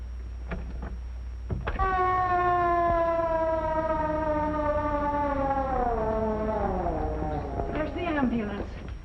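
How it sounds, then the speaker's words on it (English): An ambulance siren winds up and holds a steady rising tone, then slowly falls in pitch, sounding fairly close and loud throughout. "There's the ambulance."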